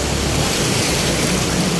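Heavy rain during a lightning storm over a flooded street pours in a dense, continuous hiss, loud and close with no pauses or voices.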